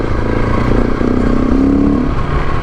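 A KTM 701 Rally motorcycle engine drones steadily while riding, a close, continuous buzzing hum with a slight rise in pitch partway through, alone without talk.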